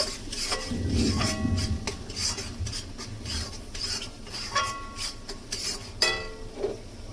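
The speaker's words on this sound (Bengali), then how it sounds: "সামান্য মিষ্টি, দিয়ে একটু সুন্দর করে মশলাটা কষিয়ে নেব।" Spice masala sautéed in a pan for potol dorma, with repeated metal scrapes and clinks of a spatula against the pan over a low sizzle, no voices.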